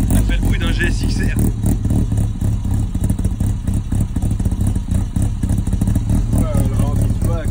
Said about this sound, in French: Elle fait le bruit d'un GSXR.